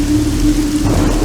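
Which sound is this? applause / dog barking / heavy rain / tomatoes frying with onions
heavy rain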